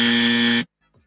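A single loud, harsh game-show style buzzer sounds for just over half a second, then cuts off abruptly into silence.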